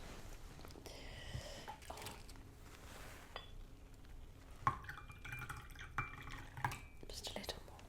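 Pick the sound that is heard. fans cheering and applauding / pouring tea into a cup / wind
pouring tea into a cup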